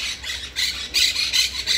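Birds in an aviary at Barcelona Zoo, shrill squawking and squealing calls rising and falling in repeated bursts, fairly loud and close, with no talking.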